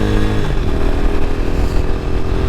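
A motorcycle engine runs steadily in third gear while riding, a loud, close, continuous drone with rough mechanical texture and no talk.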